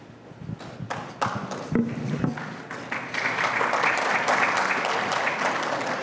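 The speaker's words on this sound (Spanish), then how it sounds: "Yo creo que el aplauso indica que se dijo lo que había que decir." Applause at a Colombian fuel service station industry forum begins with a few scattered claps, then swells into steady, fairly close clapping from the audience that holds to the end.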